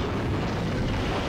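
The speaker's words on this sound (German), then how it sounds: "Wo kam jetzt auf einmal die Explosion hin?" An explosion in the video game Tomb Raider 2 rumbles as a loud, dense, continuous roar with heavy low-end boom, filling the short stretch without a break.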